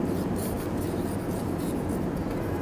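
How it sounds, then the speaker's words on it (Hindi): Pen scratching steadily across paper while writing out the name potassium in a chemistry lecture, a continuous close, dense rubbing texture with no pauses. "पहले नाम हम लिखेंगे पोटाशियम"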